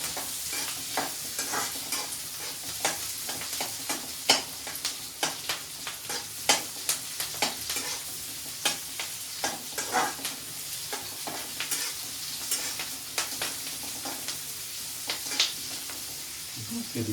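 Ginger garlic paste fries in a pan for kurma, hissing under repeated scraping and clicking strokes of a spoon as it is stirred, steady and close with no talking.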